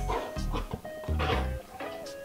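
A dog makes a few short barks and whimpering yips indoors, close to the microphone, with tonal background sounds running underneath.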